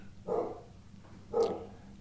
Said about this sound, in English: as my dog is barking, if you can hear it in the background